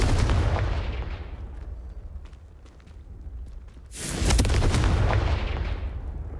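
A Confringo blasting spell fired in the video game Hogwarts Legacy makes a heavy, booming burst that fades out, then a second loud explosive blast around the midpoint that rumbles on to the end.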